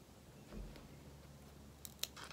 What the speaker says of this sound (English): The surgical scissors are a little more precise.